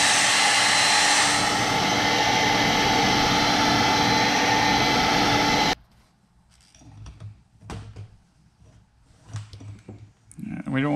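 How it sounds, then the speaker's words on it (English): A loud, steady roaring hair dryer runs for about six seconds, heat-setting airbrushed paint on fishing lures, then cuts off abruptly, leaving quiet room sounds and faint talk. "I'm gonna hit them with the hairdryer to heat set this"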